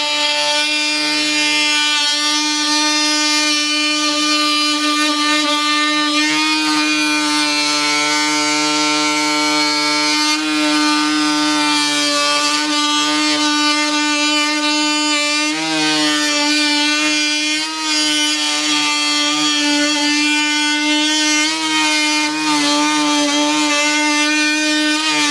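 A Hercules power saw with a carbide blade cutting steadily for a long stretch, its motor whining loud and continuous with a constant tonal drone and slight pitch shifts as it cuts.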